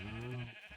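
A single short sheep bleat in a Minecraft-style survival game, close and fairly faint, heard alone.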